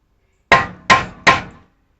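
Three sharp hammer taps, evenly spaced and close, flatten the sealing lip of a Chevy small-block V8 valve cover for a cork gasket, each ringing briefly before fading into silence.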